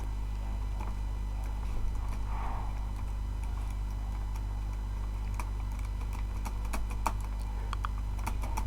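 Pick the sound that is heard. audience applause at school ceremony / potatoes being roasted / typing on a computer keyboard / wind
typing on a computer keyboard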